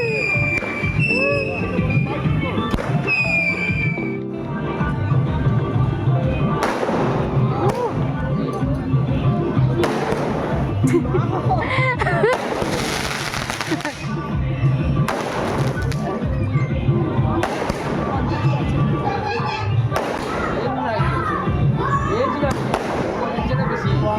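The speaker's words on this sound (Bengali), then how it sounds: "আর দেখো এখানে এখন এরা সব বাজি ফাটাচ্ছে" Diwali fireworks and firecrackers going off outdoors, repeated sharp bangs and crackling bursts scattered across the whole stretch amid a lively crowd, with whistling and fizzing between the louder explosions.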